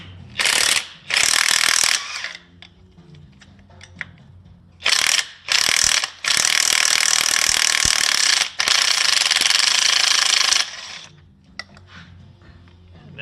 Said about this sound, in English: we're gonna use power tools and hopefully it goes as planned